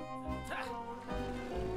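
A cartoon dog in the PS4 game Stick It to The Man gives yipping barks and whimpers over the game's music and effects, with a voice present.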